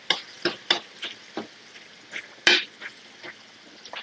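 Curry leaves frying in a pan for Chettinad-style prawn thokku, heard as a steady soft sizzle under a dozen sharp, irregular taps and scrapes of a spatula against the pan, close by, with no talking.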